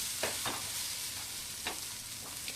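Paneer masala dosa sizzles softly on a hot pan as it is flipped, a steady low frying hiss with a few faint scraping ticks and no voices.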